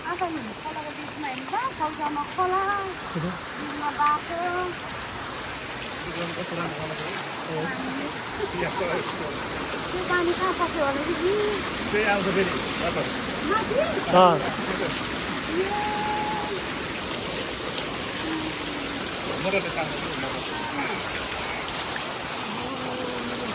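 Footsteps wade through a steadily rushing river stream, water splashing around the legs over a constant flowing wash, with voices talking throughout.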